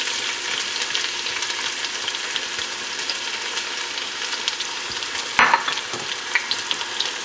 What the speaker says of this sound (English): We're gonna give that a stir.